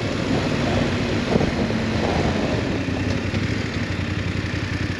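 A 2022 BMW F 850 GS Adventure motorcycle on a road test ride: a steady engine drone at cruising speed, heard up close with constant wind buffeting across the microphone and no speech.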